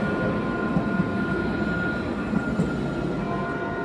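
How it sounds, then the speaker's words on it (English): A city-street tram rumbles past steadily, a continuous rolling roar with metallic wheel noise, fairly loud and close, no voices. "This is our tram line, which goes down to the main market. There's one coming actually now"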